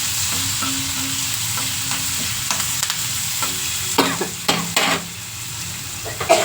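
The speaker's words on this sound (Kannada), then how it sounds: "ಒಗ್ಗರಣೆ ಮಾಡ್ಕೊಳ್ಳೋಣ. ಅದಕ್ಕೆ ಸಾಸಿವೆ ಹಾಕಿದ್ದೀನಿ, ಜೀರಿಗೆ ಹಾಕಿದ್ದೀನಿ." Mustard seeds and cumin sizzle in hot tempering oil, a steady close frying hiss with occasional crackles and the clink of a spoon stirring the pan.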